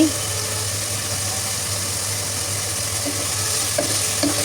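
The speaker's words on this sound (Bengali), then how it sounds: "মশলা কষাতে কষাতে এখানে এখন আমি মাছগুলো দিয়ে দিচ্ছি" Snakehead fish pieces go into spice paste frying in a pan for a bottle gourd curry, giving a steady close sizzle with a low constant hum underneath and a few soft clinks near the end.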